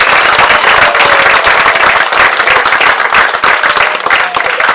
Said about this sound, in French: Applaudissez ce garçon.